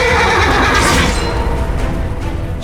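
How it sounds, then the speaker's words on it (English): A war horse neighs in the medieval battle video game Chivalry 2: a loud, drawn-out whinny over a dense, steady wash of battlefield noise, with no talking. "Horses are huge war beasts that will turn the tide of battle."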